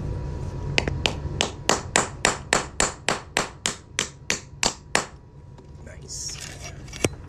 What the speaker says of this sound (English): and we're just going to drive that through with a hammer.